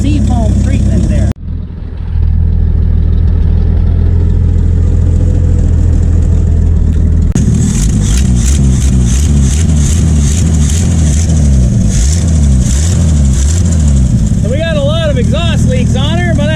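A Ford F350 pickup engine idles rough while warming up, with an exhaust leak, a steady loud low rumble running throughout, pulsing and uneven, with someone talking over it.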